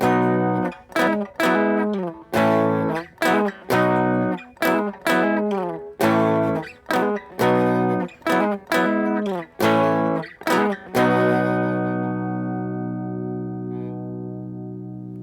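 Distorted electric guitar playing a quick lick of choppy, separate notes with hammer-ons, then a final note left ringing and slowly fading out. No voices.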